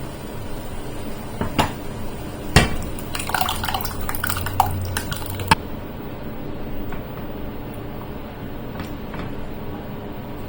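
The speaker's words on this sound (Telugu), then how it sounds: "ఇప్పుడు మనం ముందుగా వండి పెట్టుకున్న పప్పు వేసేద్దామండి దీంట్లో." Cooked dal being poured into a pan for dal tadka, a soft wet glop and splash bracketed by a couple of sharp clinks of a utensil against the metal, then quiet dripping.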